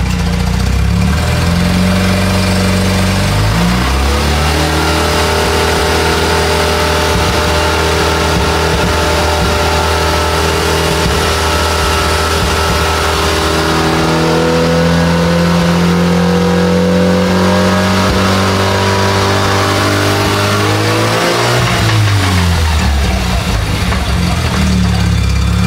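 A Mazda RX-7 rotary engine revs up through the gears in a long loud pull, pitch climbing steadily and dropping at each shift, heard close and continuous with no talk.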